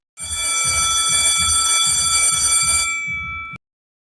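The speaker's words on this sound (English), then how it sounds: "Suddenly, a bell rang for lunchtime." A school bell rings for lunchtime in a single sustained electric buzz with a rapid pulsing rattle, loud and close, lasting a few seconds before cutting off abruptly.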